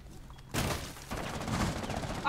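Gunfire in the video game Rainbow Six Siege: a sudden loud volley of shots breaks out after a quiet start, then continues as sustained rapid fire at moderate distance.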